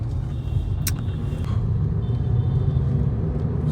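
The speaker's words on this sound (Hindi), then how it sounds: "जब ये 60-70 लाख रुपए की गाड़ी को यूं ओवरटेक करके जाती है ना" Road rumble from inside a moving car as it overtakes an expensive car, with a steady loud low engine and tyre drone and a couple of brief sharp hisses near the start.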